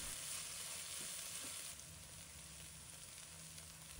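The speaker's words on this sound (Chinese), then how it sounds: "我们先将葱花煎炒大约2分钟" Chopped scallions sizzle and fry in a pan while a spatula gently stirs them, giving a steady, close hiss that eases slightly partway through, with no voices.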